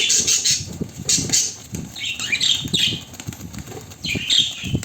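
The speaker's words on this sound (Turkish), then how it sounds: "Papağan da o durumda uçmaya çalışıyor." A parrot's wings flap in rapid bursts close by, a fluttering, papery beating that repeats several times with brief pauses between.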